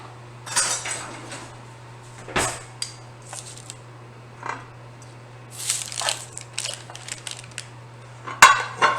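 Cauliflower being moved onto a serving platter, with a scatter of clinking, scraping and crunchy knocks of utensils against dishware, close and alone, in irregular bursts with one sharp clack near the end.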